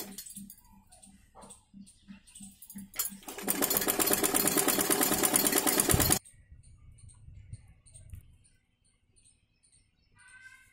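A sewing machine runs in one steady burst of rapid stitching lasting a few seconds, sewing the neckline of a long gown made from an old sari, with quieter handling sounds and soft taps before and after.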